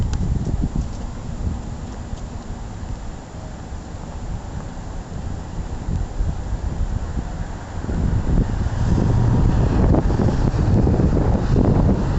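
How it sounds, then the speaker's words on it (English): Steady wind buffeting the microphone in an Everett park, a continuous low rumble that grows stronger and gustier toward the end, with no voices. "it's a nice day, a little windy."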